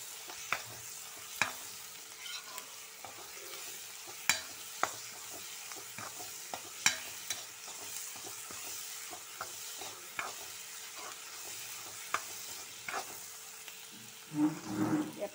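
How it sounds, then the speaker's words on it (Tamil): Spices for channa masala sauté in a pan with a soft, steady sizzle, punctuated by sharp clicks and scrapes of stirring, ending with a louder stir; no speech. "நான் நல்லாவே வதக்கிக்கிறேன்"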